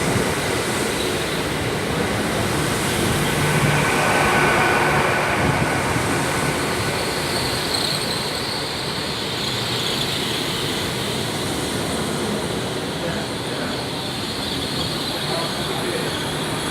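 Train 800-310 departs Swindon station with a loud, steady rumble and hiss that holds for the whole stretch, joined by a faint high whine.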